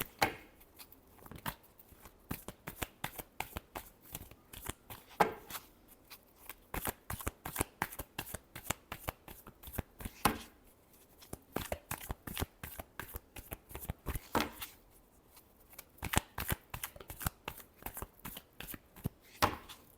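Tarot cards shuffled by hand in a long run of quick, crisp riffles and flutters with short pauses between bursts, close and clear, with no voice over them.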